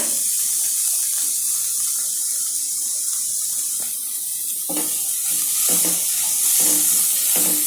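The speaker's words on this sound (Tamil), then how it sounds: "இது கொஞ்சம் நல்லா வதங்கட்டும்" Chopped onions sauté in a hot pan for a tea-shop-style samosa filling, giving a steady bright hiss broken by a few soft scrapes and knocks of stirring toward the end.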